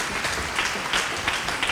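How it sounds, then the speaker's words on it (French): Audience applause at a French entrepreneurs' event honouring a woman, a dense steady burst of clapping filling the short moment. "On peut l'applaudir."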